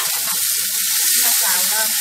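Potatoes and mushrooms being stir-fried in a pan with vegetarian fish sauce, soy sauce and sugar, giving a close, continuous bright sizzle with faint stirring scrapes.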